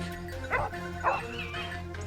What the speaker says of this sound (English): the dog's barking grew louder